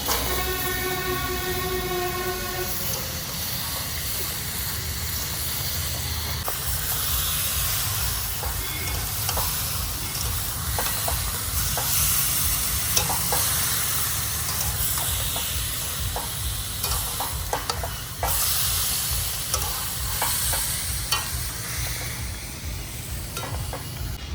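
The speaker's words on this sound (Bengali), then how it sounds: "মাংসটা সেই মাংসটা আমি এবার কড়াইতে দিয়ে দিই" Marinated duck meat hits hot oil in a wok with fried onions, giving a steady loud sizzle and crackle with occasional stirring scrapes, continuous and close.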